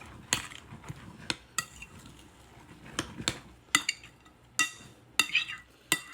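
A spoon clinks and scrapes against a bowl while stirring southern style potato salad, giving a steady run of sharp metallic taps and stirs, close up and with no talking.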